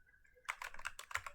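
A burst of computer keyboard typing, about a dozen quick, uneven keystrokes, close and crisp after a brief quiet start, with no talk.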